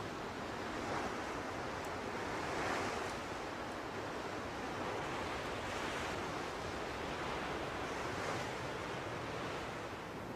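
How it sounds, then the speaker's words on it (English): Strong wind roars on a cliff top by the sea, a steady broad rush with gusty swells, loud and unbroken, with no talk. "there's a strong wind blowing"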